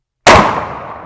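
A single loud, close shotgun slug blast, a Hornady or Black Aces round, cracks out sharply after a moment of silence and trails off in a long, fading echo.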